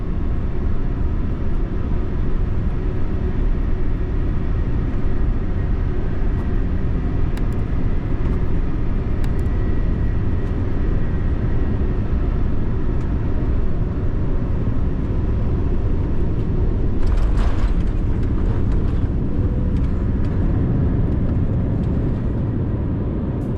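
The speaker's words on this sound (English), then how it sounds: "it's almost time to land" Inside the cabin of an Air Europa Boeing 787 Dreamliner descending to land at Barcelona, a steady loud engine and airflow drone fills the whole stretch, with a brief rattling rise near the end and no voices.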